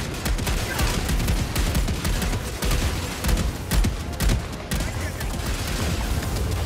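Gunfire in the video game Helldivers 2 comes as dense rapid bursts, like a machine gun, loud and close, with a voice now and then under it.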